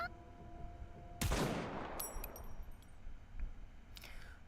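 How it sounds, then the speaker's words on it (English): One sharp gunshot cracks out in the video game Nikke, followed by a decaying echo, faint metallic clinks and a quieter rustle afterward. "A single gunshot rings out."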